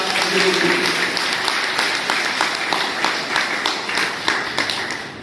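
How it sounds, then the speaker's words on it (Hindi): Loud, sustained applause from a seminar crowd in Bahraich, many hands clapping in a dense, even wash for several seconds. "उनके सम्मान में हम एक जोरदार तालियां चाहते हैं"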